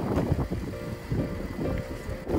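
A Mazda CX-60 3.3-litre diesel engine idles with a low, steady rumble, quiet and even, with a faint hum running underneath throughout.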